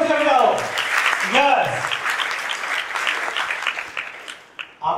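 Loud applause from a crowd at a college event, sustained clapping mixed with cheers and shouts, with a voice calling out over it at the start.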